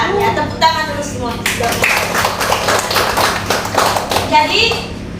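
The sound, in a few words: applause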